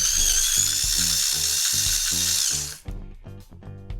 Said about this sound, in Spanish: la energía eléctrica que tenemos en las baterías se va a transformar en movimiento a través del motor